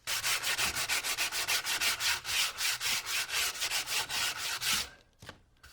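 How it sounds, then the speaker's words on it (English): Thin plywood for a one-string guitar is sanded by hand in quick, even back-and-forth strokes, about twenty rhythmic close rasps that stop near the end, followed by a couple of faint scrapes. "Now you want to be careful not to sand too much on the top side"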